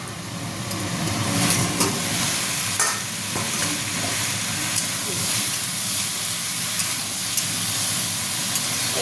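A vegetarian mixed vegetable curry sizzling in a pan, loud constant hissing frying with scattered utensil scrapes and taps as it is stirred, close up.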